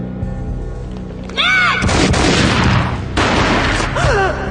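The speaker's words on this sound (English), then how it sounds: "A gunshot boomed and she fell down in slow motion." Loud gunfire booms from the video game Max Payne, heavy blasts with a long rumbling tail, set among swooping whooshing effects and a tonal backdrop.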